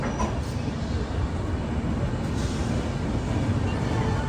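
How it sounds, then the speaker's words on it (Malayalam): Sampark Kranti Express, running from Hazrat Nizamuddin toward Jabalpur, arriving at Agra Cantonment station, heard from inside the train as a steady, loud rumble of wheels and carriages that holds without a break. "ആഗ്ര കണ്ടോൺമെൻറ്റ് റെയിൽവേ സ്റ്റേഷനിലേക്ക് ഇതാ നമ്മുടെ ട്രെയിൻ എത്തിക്കൊണ്ടിരിക്കുകയാണ്"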